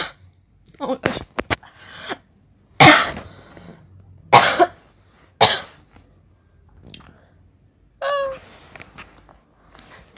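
A person coughs in several sharp, close bursts with a throat-clearing sound, spaced across a few seconds amid quiet room noise, while recovering from a Pfizer COVID-19 vaccination.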